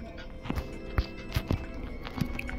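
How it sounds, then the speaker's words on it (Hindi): Loud footsteps in the horror video game Granny land as a handful of heavy, irregular thuds spread over a few seconds against a low background hum. "यार पैरों की आवाज़ तो यहीं से आ रही है, बहुत जोर की आ रही है।"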